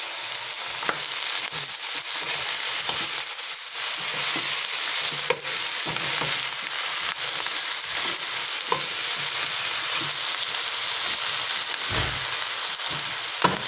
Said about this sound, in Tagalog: Ganito lang paggisa. Ito yung paggisa ko.